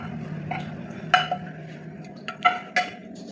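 Fried onion stirred into masala in a pan over a low flame, a utensil scraping the pan and giving a few sharp clinks over a low hum, close by, with no talking.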